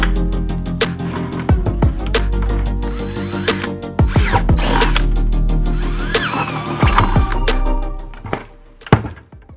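A power drill bores into the bottom of a plastic bucket with a steady loud motor whir, its bit chattering in a rapid buzzing rhythm, broken by a few sharp thunks and a final clatter as it stops.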